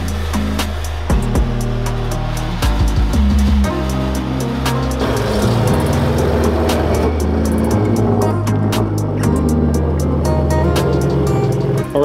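A BMW E90 M3 drives with a loud, continuous engine note that climbs and drops through the gears, close up and steady throughout with no talking.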